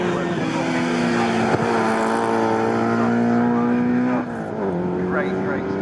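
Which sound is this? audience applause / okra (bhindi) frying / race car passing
race car passing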